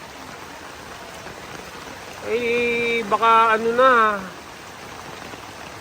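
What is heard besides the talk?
rain and floodwater flowing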